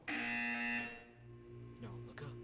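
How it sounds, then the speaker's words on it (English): An electronic buzzer in the video game Portal 2 blares loud and steady for about a second, then drops away while a low synthesized voice keeps speaking. "You will hear a buzzer."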